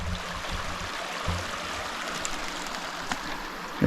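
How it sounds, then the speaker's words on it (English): The Little Missouri River, running low, flows along as a steady rushing stream, close and continuous, with a few small splashes and no voices. "This is the Little Missouri River."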